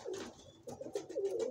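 Pigeon with bull's-eye colouring cooing softly, a few low throaty coos in quick succession, faint and close, with no voices.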